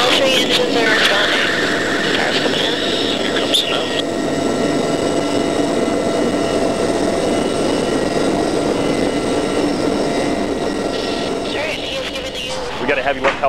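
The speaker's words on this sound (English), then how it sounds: "We got a heavy lift helicopter" A loud, continuous roar from a three-engine heavy-lift helicopter's turbines and rotors fills the whole stretch, steady and close, with faint voices buried underneath.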